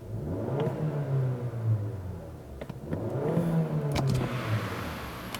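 A Mazda CX-9's 2.5-liter turbocharged engine idles and revs up, a steady mid-low rumble swelling into two rising revs before settling, with no talking over it.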